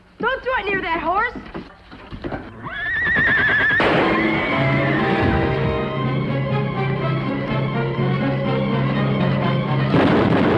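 A horse neighs loudly in a Western drama, with a shrill rising-and-falling whinny up close, followed by a long sustained loud noise that may be gunfire or commotion, and another burst near the end.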